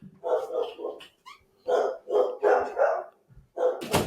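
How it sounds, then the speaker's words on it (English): Several dogs barking in a repeated run of sharp, moderately loud barks with short gaps, somewhat distant. "The dogs are going nuts."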